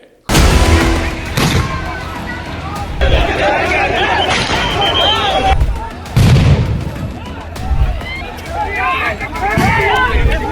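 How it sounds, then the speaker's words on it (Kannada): Gunshots from several directions in news footage of a violent political clash in Bellary: loud, repeated bangs and booming cracks over a constant noisy crowd babble, with people shouting throughout. "ಎಲ್ಲೋ ಬೇರೆ ಕಡೆಯಿಂದ ಬೇಕಾದಷ್ಟು ಗುಂಡುಗಳು ಸಿಡಿತಾ ಇದ್ದಾವೆ"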